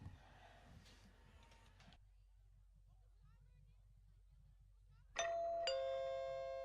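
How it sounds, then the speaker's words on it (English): A doorbell in a radio commercial rings out loudly with two bright chime tones after a quiet pause, following faint talk at the start. "Ah, the sound of my doorbell."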